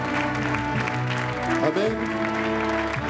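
Church congregation applauding and cheering in praise, a dense sustained wash of clapping under a strong organ or keyboard chord and voices, with one person speaking briefly over it.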